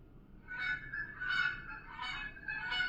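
A goose honks four times in a steady, evenly spaced series, each call loud, nasal and close, with a soft background hiss and no talking.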